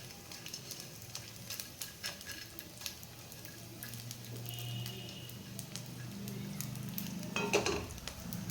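Edible gum (dink) puffs up and sizzles in hot fat in a pan while a spoon keeps stirring it, a soft, steady frying hiss with light scraping that builds slightly toward the end, fairly faint and close.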